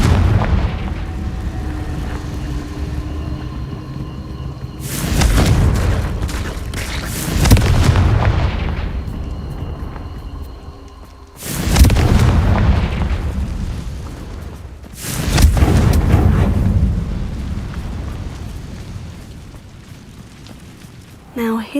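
Confringo blasting-curse explosions from the game Hogwarts Legacy: four heavy booming blasts roughly evenly spaced, each swelling then fading in a long rumbling tail, loud and close, with a low game ambience between them.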